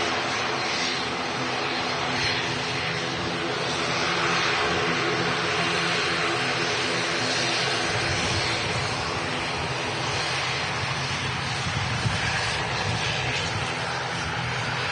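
An Aer Lingus Regional ATR 72 turboprop at Manchester Airport produces a loud, steady broadband engine and propeller roar that fills the whole stretch without letup.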